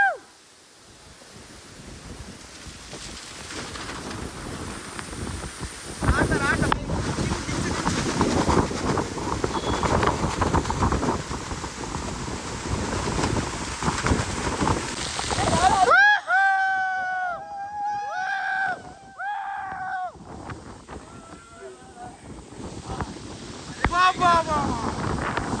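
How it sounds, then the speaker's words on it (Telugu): Roadside monsoon waterfalls in the Sahyadri range of Maharashtra give a steady broadband rush of falling water. It is loud and continuous for about sixteen seconds, then drops to a quieter background while a person talks nearby. "బికాజ్ జస్ట్ రోడ్డు పక్కన ఉన్న వాటర్ ఫాల్స్ ఇవి"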